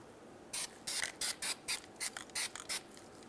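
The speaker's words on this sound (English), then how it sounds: "The anti-seize that we're using is in an aerosol can" Eight short bursts of aerosol anti-seize spray hiss in quick, uneven succession, close and crisp against a quiet background, during rear brake work on a Mazda CX-9.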